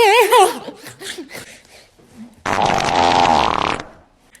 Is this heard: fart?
yes